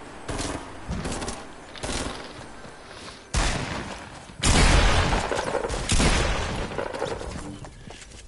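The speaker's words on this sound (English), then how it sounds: "Why does someone always shoot through your builds?" Loud bursts of automatic gunfire in Fortnite rattle through player-built structures, coming in several separate volleys with brief gaps and a heavier, booming barrage near the middle.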